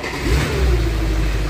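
Audi A8 engine firing up after a no-start problem, then revving loud and close with a deep rising roar that holds steady for a moment.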